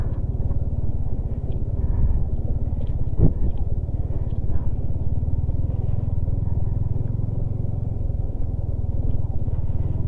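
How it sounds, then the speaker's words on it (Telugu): A motorcycle's cooling fan whirs on a rough off-road mountain route, blending into a steady, close engine drone that runs unbroken throughout, with one sharp clack partway through. "చూసారా ఫ్యాన్ సౌండ్ మీకు వినిపిస్తుందో లేదో"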